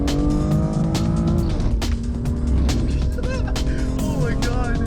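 A race car on a hot lap roars loudly from close by, its engine rising and falling through gear changes while brief tire squeals chirp through the steady drone.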